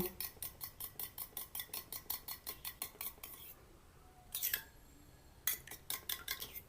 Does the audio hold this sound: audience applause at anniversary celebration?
no